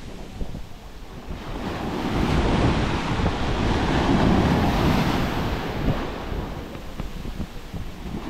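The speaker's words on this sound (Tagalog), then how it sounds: "Malalaki ang alon." Big sea waves rolling and crashing under strong wind at sea, with a continuous, surging roar and heavy wind buffeting the microphone, no voices.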